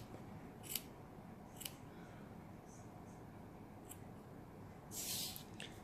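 Scissors trimming the yarn ends of a crocheted hat and scarf, several quiet crisp snips spaced apart over a low background hiss, with one longer, louder cut near the end.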